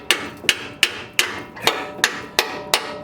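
Hammer tapping on the front strut of a 2014–2020 Ford F-150 to break it free, eight sharp metallic knocks in a steady rhythm, close and loud with short ringing decay between blows.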